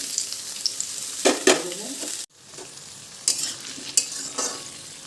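Potatoes, drumstick, eggplant and bitter gourd sizzle in a pan with garlic and whole cumin, a steady frying hiss broken by a few louder bursts of stirring and scraping, with a brief quiet gap midway.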